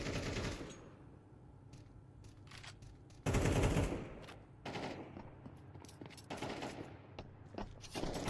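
AK rifles fire in a competitive tactical shooter match, with sharp single shots and rapid bursts going off in uneven clusters, some loud and close, others fainter and farther off.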